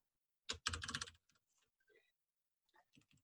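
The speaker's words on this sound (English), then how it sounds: "just type in your domain" Someone types a domain on a computer keyboard: a quick close burst of key clicks, then a few scattered softer taps after a pause, quiet overall.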